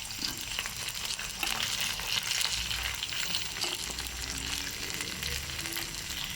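Fried catfish dropped into hot oil with sautéing aromatics for a coconut-milk adobo, giving a loud, continuous close sizzle and crackle throughout.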